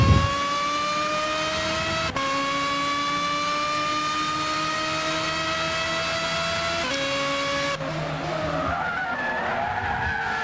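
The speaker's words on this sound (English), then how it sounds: "in GT6 quite a lot of cars sound like vacuums and who knows what they sound like" A racing car engine in Gran Turismo 6 holds a loud, steady high-pitched whine, shifting pitch at gear changes, with tire skid noise mixed in, heard alone during an endurance race.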